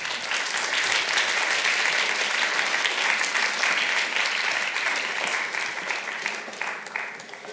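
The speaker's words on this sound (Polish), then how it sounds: "Przywitajmy oklaskami pana Janusza." A live audience applauds to welcome a guest onto the stage at a Polish talk show event, with steady, dense clapping that holds for several seconds and only tapers slightly at the close.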